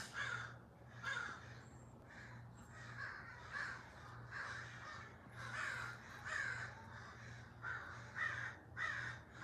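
Several crows caw repeatedly outdoors, harsh calls coming in irregular bursts at moderate distance over a steady low hum.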